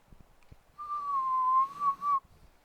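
A person whistles a single sustained, slightly wavering note for over a second, clear and fairly close against a quiet room with a few soft taps.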